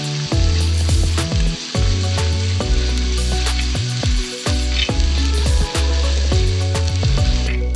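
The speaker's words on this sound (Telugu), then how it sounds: "అల్లం పేస్ట్ వేసుకున్నాను. ఇది పచ్చివాసన పోయే వరకు వేసుకుందాం." Ginger paste for mutton pulao sizzles and fries steadily in a hot pan, a loud continuous crackle with occasional stirring scrapes and no talking.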